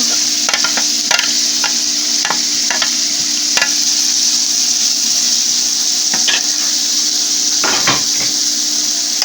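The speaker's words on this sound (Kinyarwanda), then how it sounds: "tubivange n'ibirungo." Fried potatoes are stirred with spices in a sizzling pan, giving a steady hiss of frying broken by repeated sharp scrapes and clicks of the spoon against the pan.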